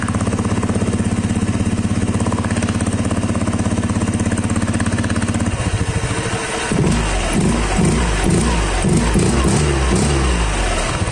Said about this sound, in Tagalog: Dito tinakpan ko na nga muna yung empty pipe natin para marinig natin ng clear yung tunog ng airbox natin.